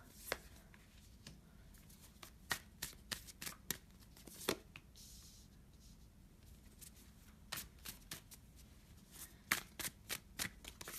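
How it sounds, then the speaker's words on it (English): Advice cards are shuffled by hand in a series of quick, crisp riffling bursts, close and quiet, spaced irregularly across the recording. "Okay, I'll do 3 advice cards."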